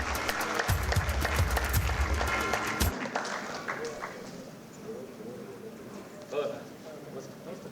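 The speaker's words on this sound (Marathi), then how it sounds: "एकदा जोरदार टाळ्या होऊन जाऊ द्या अण्णांसाठी." An audience at a Bhaubeej community event claps for a minister in a loud, dense burst that stops abruptly after about three seconds, followed by murmuring crowd noise and talk.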